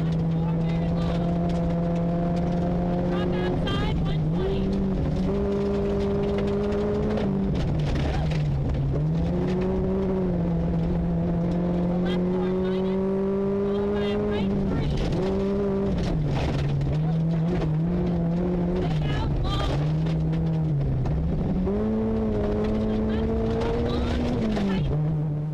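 An underpowered two-wheel-drive Toyota Corolla rally car engine roars continuously from inside the cabin at the 2011 Olympus Rally, pitch rising and falling with gear changes and throttle over a loud, steady drive.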